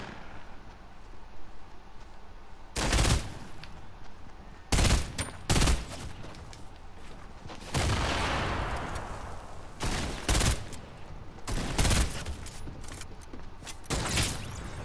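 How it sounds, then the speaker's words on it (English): Heavy sniper rifle shots ring out in the video game Fortnite, several sharp loud cracks spaced irregularly, with a longer rolling burst of gunfire partway through and a quieter background of game ambience between them. "that was a no-scope heavy sniper"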